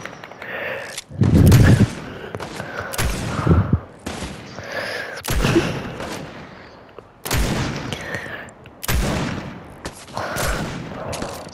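Video game gunfire crackles in repeated loud bursts of shots, spaced a second or two apart with short pauses between volleys, close and punchy.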